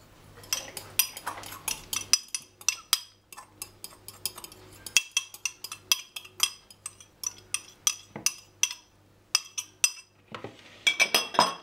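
Butter being mixed with sugar in a bowl for frangipane, heard as a steady run of close, sharp clinks and scrapes of a utensil against the bowl, with brief pauses between bursts of strokes.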